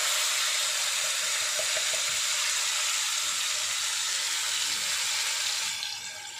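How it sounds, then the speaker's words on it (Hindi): Finely chopped garlic frying in hot oil, a constant loud, hissing sizzle that stays steady throughout and eases slightly at the very end. "लहसुन को हम गोल्डन ब्राउन होने तक तलेंगे।"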